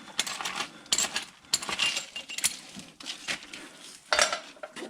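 Bolts removed from a 5.3L engine of a 2008 Chevy Suburban, handled and set down: close, irregular metallic clinks and rattles in quick bursts, no talking.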